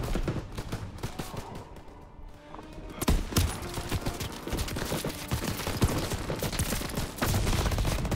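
Sustained gunfire in Call of Duty WW2 during a Battle of the Bulge mission in the Ardennes, a dense barrage of shots that grows heavier partway through, with no speech over it.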